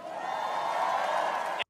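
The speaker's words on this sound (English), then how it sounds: "they're cheering for this" A Republican convention crowd cheers and whoops in one loud, sustained roar that cuts off abruptly after under two seconds.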